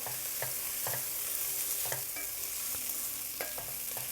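Jasmine rice and chicken pieces stirred together in a pot with a utensil, making repeated soft scraping and clinking strokes over a faint steady sizzle, close by with no talking.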